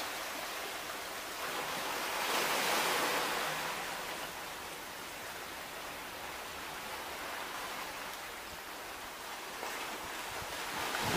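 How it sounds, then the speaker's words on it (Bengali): Sea waves wash steadily onto the shore at Chidiya Tapu in the Andaman Islands, a soft continuous surf with gentle swells and no voices. "সমুদ্রের জলের আওয়াজ"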